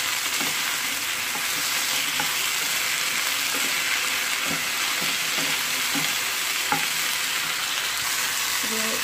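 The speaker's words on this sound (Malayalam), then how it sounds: "ഉപ്പിട്ട് നന്നായി ഇളക്കി കൊടുക്കുക." Ivy gourd and carrot stir-fry with salt sizzles steadily in a pan while a spoon stirs it with regular scraping and tapping strokes, moderately close, with no talking.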